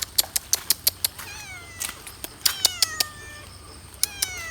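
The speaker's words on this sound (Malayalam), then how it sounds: "പൂച്ചയാണ്." A cat at a budget resort meows repeatedly, rising and falling calls close by, interspersed with sharp clicking or tapping sounds, with no talking.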